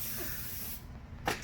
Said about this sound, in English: We need more spray paint.